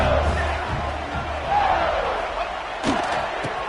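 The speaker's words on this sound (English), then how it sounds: "Yelling, screaming. Now listen, we can't play all the words they're yelling, Reese, but they are an intimidating crowd" Stadium crowd at a football game yelling and screaming, a loud sustained roar close around the listener with a few sharper shouts and a slap-like hit near the end, no distinct speech.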